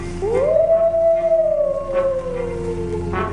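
A wolf howl in the 1991 El Chapulín Colorado comedy, one loud drawn-out cry that rises quickly, holds steady, then sinks gradually, heard alone and close.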